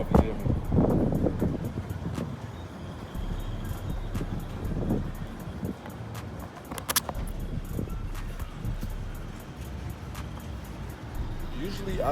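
Strong wind gusts buffet the microphone outdoors in a steady low roar with rougher bursts throughout, up close and loud, drowning out finer detail.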